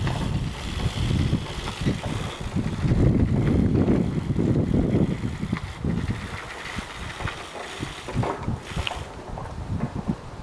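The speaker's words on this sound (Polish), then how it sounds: "Słuchajcie, tak wieje" Strong gusty wind roars across the microphone outdoors during grass seed sowing, swelling and easing in heavy buffets, with no clear voices.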